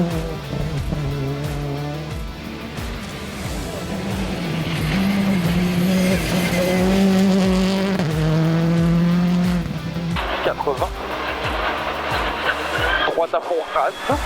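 A rally car at full speed on a special stage at Le Touquet, its engine screaming up and down through gear changes close by, with tyre noise and a voice talking over the engine.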